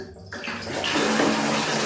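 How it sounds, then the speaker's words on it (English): Tap water pours into a bucket for bathing in the Philippines, a steady splashing rush that builds in the first half-second and holds loud and close to the end, with no one talking. "Water pours into the bucket"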